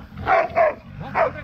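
Hunting dogs in a pack after a wild boar give three loud, close barks in quick succession, each one short and rough.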